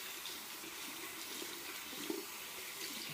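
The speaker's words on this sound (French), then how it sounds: "je rince ma petite lingette" A small face cloth rinsed under a running bathroom tap, a faint steady stream of water splashing close by with no talking.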